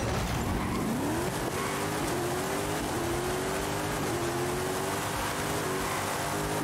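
Acura NSX racing in Forza Horizon 5, its engine note climbing and shifting through gears over a steady roar of road and tire noise, close and continuous with no talk.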